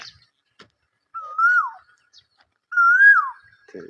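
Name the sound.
whistled imitation of koel call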